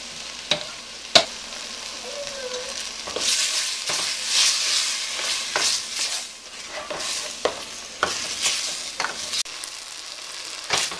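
Garlic, onions and meat frying in a pot for a homemade stew, a soft steady sizzle punctuated by sharp spoon clanks and stirring scrapes, close, with no talk.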